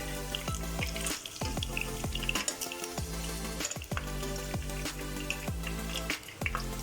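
Meat fries in oil for bamia with a continuous sizzle. Sharp pops and crackles recur every half second or so, close and steady, and no one speaks.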